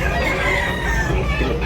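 A bulik fighting cock at a Cebu market crows loudly and close, one drawn-out call running across the whole short moment over a busy background murmur.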